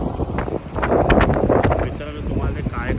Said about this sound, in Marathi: वारा तर खूप सुटलाय